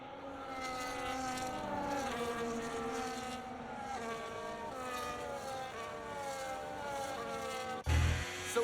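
Formula 1 cars in the F1 25 racing game roll through the formation lap at Australia's season opener, a steady layered engine drone with many rising and falling tones throughout, ending in a brief louder thump.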